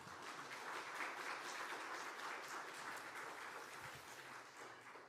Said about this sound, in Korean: 따뜻한 환영의 박수로 맞이해 주시면 감사하겠습니다.